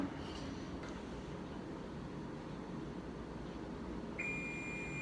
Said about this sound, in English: that was our 10-minute timer on the crust, so you can go ahead and turn your timer off